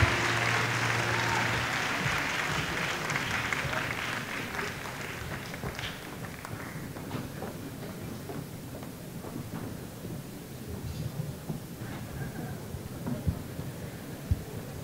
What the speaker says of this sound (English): once again, a big round of applause for that wonderful singing